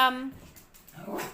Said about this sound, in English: I apologize for my dogs in advance.